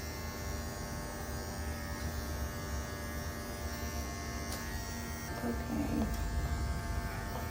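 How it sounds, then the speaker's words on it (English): Electric clippers buzz steadily and close up while shaving a dog's muzzle during grooming, a constant hum with a brief spoken word partway through. "And if I'm shaving towards the muzzle instead of away from the muzzle"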